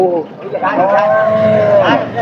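A cow moos loudly and close by at a cattle market in one long, drawn-out bellow that rises and falls, with a shorter lowing call at the start.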